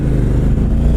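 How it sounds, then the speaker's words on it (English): Honda CTX700 motorcycle engine accelerating on the highway, a loud, close, low rumbling drone that holds steady throughout the short stretch, with no talking. "So I'm accelerating now,"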